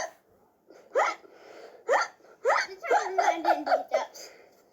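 Repeated hiccup-like gasps from a person, several sharp bursts in an uneven rhythm near the mic, mixed with giggling, exclaiming voices and laughter.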